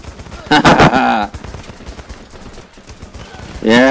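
Heavy machine gun in the video game Running With Rifles fires in two loud, rapid bursts, one near the start and another at the end, with a quieter stretch of game noise between.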